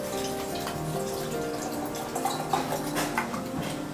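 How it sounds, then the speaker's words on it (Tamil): Rose water pours steadily into a metal vessel, a continuous trickling splash with faint clinks, close by and without voices. "சொம்புல வந்து நம்ம பன்னீர் ஊற்றிக்கலாம்."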